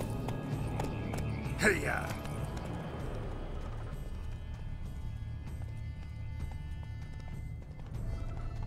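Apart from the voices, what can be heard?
horse Roach galloping in the video game Witcher 3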